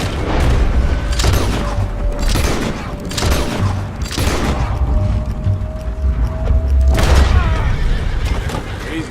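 Heavy gunfire in a Wild West shootout against soldiers in Red Dead Redemption 2: a series of loud, booming shots spaced irregularly, several close together, with faint voices between blasts.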